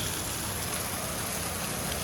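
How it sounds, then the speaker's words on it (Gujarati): Heavy rain pours down in Mahuva as a continuous, dense, even hiss that fills the whole stretch, with no voices. "હું મહુવા આવ્યો ને વરસાદ જો ધબાધબી બોલાવે"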